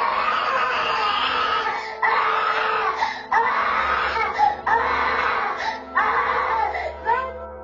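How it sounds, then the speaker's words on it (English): A young boy screams and cries in loud, sustained wails broken into several long bursts, with sobbing gasps between them, recorded close up indoors at home. "the way he starts screaming is like something spooky is scaring him"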